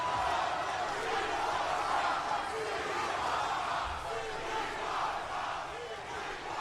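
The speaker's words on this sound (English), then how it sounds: "missed these "We Want Cross" chants" An arena crowd at WWE SmackDown chants "We Want Cross" in a rhythmic, repeating chant that rises and falls, heard at a distance beneath a broad wash of crowd noise.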